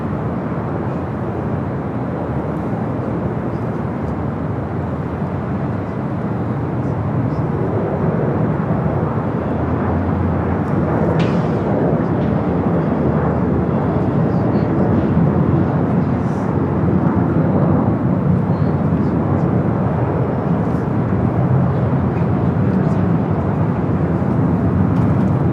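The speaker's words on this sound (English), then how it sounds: "A319 coming in from San Jose, California, Delta Airlines flight 2621." A Delta Airlines Airbus A319 arriving at Los Angeles International Airport from San Jose, a steady broadband roar of jet engines that holds fairly loud and constant throughout, with no voices over it.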